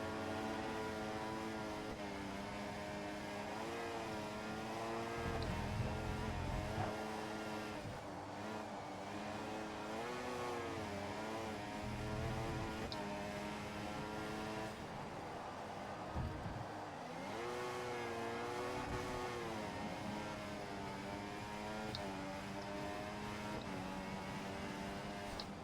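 Formula 1 race car engines from the F1 2014 video game in a rainy scenario, a continuous high-pitched screaming whine that rises and falls with gear shifts and acceleration, with brief lower rumbles, and no voices.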